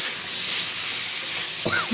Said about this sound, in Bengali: একটু ভালো করে ভাজা, মশলাটা যাতে ভিতরে ঢুকে এরকমভাবে ভাজা